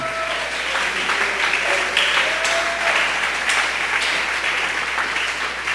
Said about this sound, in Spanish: Démosle un aplauso, hermano, al Señor.